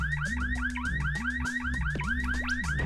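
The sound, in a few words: car alarm in Bomberman Hero video game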